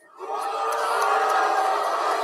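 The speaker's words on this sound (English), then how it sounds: "the fans are booing that because they don't buy none of this" Wrestling arena crowd at an AEW Dynamite event, a sustained loud mass of voices rising after a brief quiet start and holding steady throughout.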